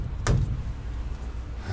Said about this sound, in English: Damn, that's a heavy door.